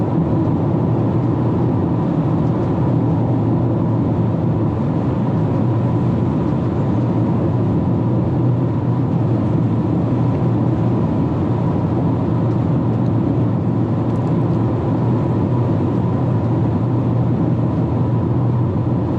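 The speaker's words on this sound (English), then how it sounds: "there's a paper tag on the back of this vehicle, so the wind's blowing it, making that noise back there." Steady broadband rumble with fluttering texture from a paper tag flapping in the wind on the back of a 2019 Toyota RAV4 Hybrid while driving, mixed with road and cabin noise, continuous and moderately loud with no talk.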